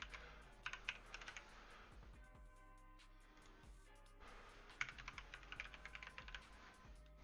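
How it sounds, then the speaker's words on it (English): A computer keyboard clatters with quick bursts of keystrokes, then a short pause before the typing resumes, faint and close with no talking. "Hopefully my keyboard isn't too loud either."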